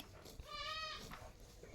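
A goat lets out one quavering bleat, fairly close and quiet, lasting about half a second.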